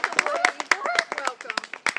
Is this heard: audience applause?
yes